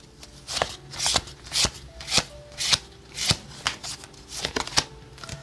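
Tarot cards are shuffled and drawn in a steady series of crisp riffling bursts, about a dozen close, distinct flicks at a quick, fairly even rhythm with no voice over them.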